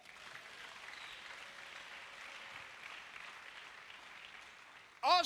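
A church congregation applauds steadily and fairly loudly for about five seconds, a dense, even wash of clapping, before a brief louder burst of voices cuts in at the very end.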